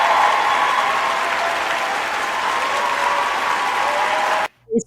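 Loud, dense applause fills most of the stretch as a steady roar, then cuts off abruptly into near silence, with a short murmur at the very end.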